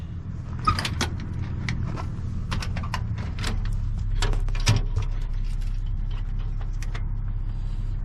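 An old treasure chest from the back of a 1932 vehicle is opened, giving a series of sharp clicks, latch snaps and creaks over a low steady engine-like hum.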